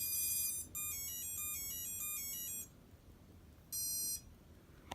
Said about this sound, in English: this beeping is very obnoxious